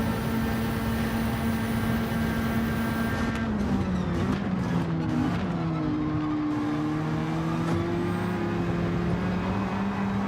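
Race car engine in Gran Turismo 7 during a lobby race, a loud continuous drone whose pitch holds steady, then dips and climbs again as the car shifts and revs through a corner, with no talk over it.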